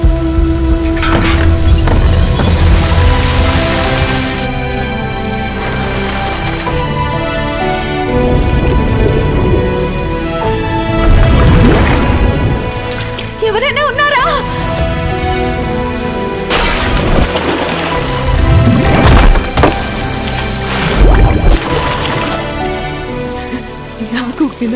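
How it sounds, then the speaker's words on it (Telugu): Heavy rain pours over a city with occasional thunder, a loud, dense downpour that runs continuously under a swelling orchestral music score with scattered voices. "నగరంలో 2 రోజుల నుండి భారీ వర్షాలు కురుస్తున్నాయి."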